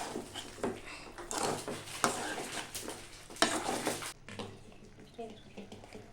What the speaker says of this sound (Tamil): கிளறிக்கலாம்.